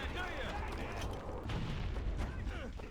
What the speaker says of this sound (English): Oh my god, the mortars.